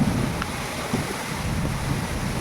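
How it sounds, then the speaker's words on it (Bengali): Gusty wind blows through a downpour at night along a street, producing a rushing, buffeting roar with low rumbling surges over a constant wash of falling rain. "এই লাইটের আলোর কাছে বোঝা যাচ্ছে কিরম দমকা হাওয়া দিচ্ছে।"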